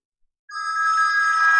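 A phone rings from a call placed by a SIM900A GSM modem, a sudden, clear electronic ring tone that starts after a short silence and holds steady and loud.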